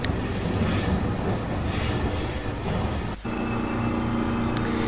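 A Japanese train running and nearing a station on a route from Hiroshima toward Hakata: loud continuous rumble and rolling rail noise, with high squealing tones from the wheels and a brief dip midway.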